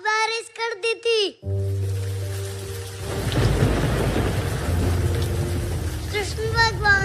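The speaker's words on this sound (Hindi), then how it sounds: "एक दिन इंद्र देव जी ने बहुत बारिश कर दी थी।" A thunderstorm sound effect rolls in with a deep rumble, then heavy rain hisses steadily. Someone talks briefly before the storm and again near the end.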